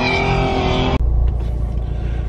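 A Volkswagen MK7 Golf R on an SCCA autocross course in West Texas gives a loud, steady engine drone for about a second. The sound then cuts abruptly to a lower, rougher rumble that lasts to the end.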